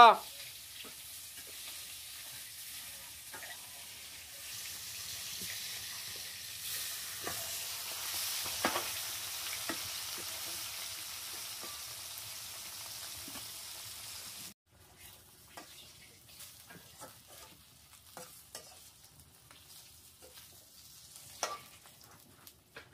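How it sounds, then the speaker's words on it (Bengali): Fish coated with turmeric, chili and salt fries in hot oil with a quiet, steady sizzle and faint crackles. The sound drops to a softer, sparser spatter partway through. "হলুদ মরিচ লবণ দিয়ে মাখিয়ে রাখলাম, একটু তেলে ছাড়বো।"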